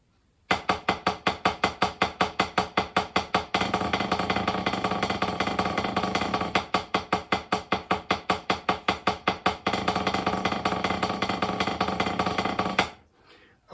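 Drum sticks strike a practice surface in crisp, evenly spaced single sixteenth notes, then switch to dense buzz strokes that smear into continuous rolls, alternating back and forth, loud and close with no talking.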